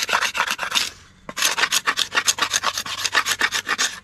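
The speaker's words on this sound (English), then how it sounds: "this is partly helped by the fact that the scraper I'm using is really sharp" Sharp hand scraper rasping old paint off a wooden canoe paddle: a rapid run of short, loud, close-up scraping strokes in steady rhythm, broken by one brief pause.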